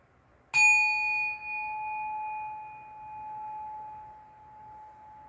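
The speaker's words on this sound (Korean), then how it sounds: "이 종소리가 굉장히 맑죠" A single clear bell struck once, a sharp attack followed by a long, pure ringing tone that sustains and slowly fades over several seconds in a quiet room.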